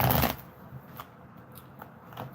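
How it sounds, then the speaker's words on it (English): Tarot cards being shuffled, a loud riffling burst at the start followed by a few quieter snaps and flutters of the deck, close up with no talking. "Just getting a good shuffle in here for our aquas."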